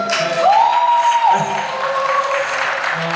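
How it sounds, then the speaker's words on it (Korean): Applause at a Korean Hangul Day speech presentation event, brief and fairly loud clapping from the audience with a sustained tonal hum running through it, fading somewhat toward the end. "보통 이런 박수 쳐주던데 여기"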